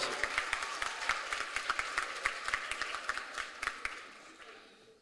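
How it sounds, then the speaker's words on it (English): A smaller gathering at a heritage education colloquium claps for the Arts Academy coordinator, individual hand claps distinct in a quick, uneven patter that gradually thins and fades toward the end. "can we give her a round of applause?"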